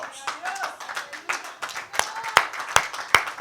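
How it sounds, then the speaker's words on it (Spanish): Church congregation clapping, a scattered patter under a voice that gives way to a few louder, sharper claps near the end. "Un aplauso a Dios."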